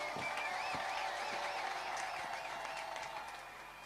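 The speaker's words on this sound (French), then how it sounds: "Les applaudissements pour le Seigneur Jésus-Christ." Church congregation applauding at a lively worship service, steady dense clapping with a warbling high electronic tone or organ sound over it, fading slightly toward the end.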